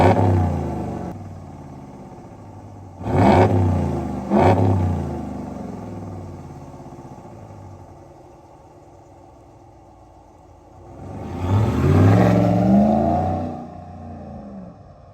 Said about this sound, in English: Here's a couple clips of the exhaust.